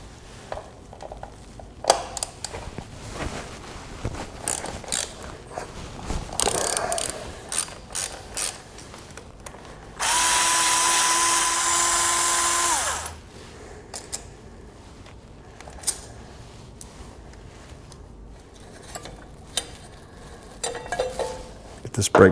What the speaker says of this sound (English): I'll remove these 2 screws with a T40 Torx.